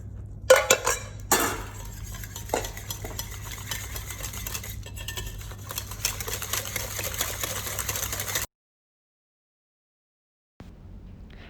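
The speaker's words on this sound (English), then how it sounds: "I don't want to over whisk them." A whisk clatters rapidly against a bowl while crepe batter is mixed as flour is slowly added, a steady close rattling that stops abruptly near the end.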